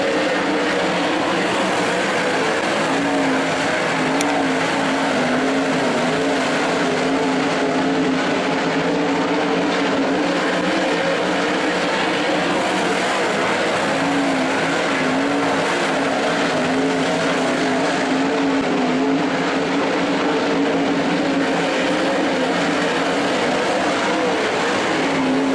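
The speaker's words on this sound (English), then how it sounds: "here we go with your A feature race of the World of Outlaws Skagit" World of Outlaws sprint cars race in the A feature at Skagit Speedway, their engines a continuous loud roar heard from the stands that rises and falls as the field passes, with no commentary over it.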